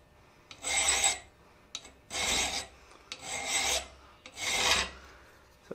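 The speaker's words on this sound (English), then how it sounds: "Take a second and clear those and you'll get a lot cleaner filing." A metal hand file works a round steel planishing tool in four steady, rhythmic rasping strokes, each a loud, close scrape lasting about a second, with short pauses between and no talking.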